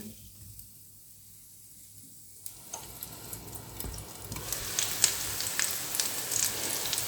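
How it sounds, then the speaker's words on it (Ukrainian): Meat patties sizzling and crackling in two hot frying pans, quiet at first, then a busier spitting fry that grows louder and keeps popping steadily. "Смажаться вже котлети."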